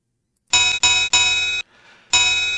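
Signal box block bell in the PC-Rail Yatton railway signalling simulator, ringing as four loud, bright, sustained dings in a beat pattern with a short quiet gap before the last, heard alone.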